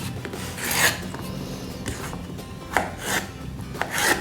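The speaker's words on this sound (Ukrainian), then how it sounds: "За цей час ми наріжемо наш кабачок" A knife slices through zucchini on a board, giving a few separate rasping cuts spaced out over a few seconds, quiet and close.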